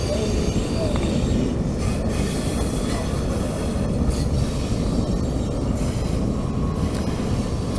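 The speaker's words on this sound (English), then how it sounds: "The train is still rolling. It's a long train." A long freight train rolls past on the tracks in a steady, continuous rumble of wagons with wheel noise and faint squeal, close and unbroken throughout, with no speech.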